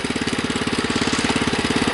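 A Husky 600 engine runs steadily and loud up close, its rapid, even firing pulses beating through the whole stretch with no voices over it.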